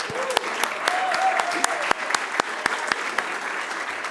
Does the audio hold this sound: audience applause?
yes